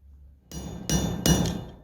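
Three sharp metallic strikes ring out as a hammer drives a chisel on an anvil during a blacksmithing hammer-in at the Ken Seiling Waterloo Region Museum. The blows are close and loud, spaced under a second apart, and each rings briefly.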